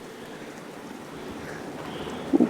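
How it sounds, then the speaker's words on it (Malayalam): Rain falls steadily in the Roblox game 99 Nights in the Forest as a soft, even patter throughout, ending with a couple of low thumps. "ഇവിടെ നിറച്ച് മഴയാണ്."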